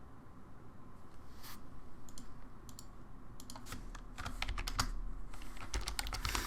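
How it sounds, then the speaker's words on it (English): Computer keyboard typing in quiet bursts of soft key clicks, sparse at first and then a quicker flurry toward the end, close but faint over a low background hum. "I'm typing out our Diesel's guess."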